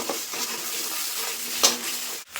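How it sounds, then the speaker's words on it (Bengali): Onion and ginger paste fries in a pan with a steady close hiss, along with intermittent scraping stir strokes and a brief clink of a utensil against the pan. "আদা বাটা দিয়ে একটু ভাজা ভাজা করে নেব"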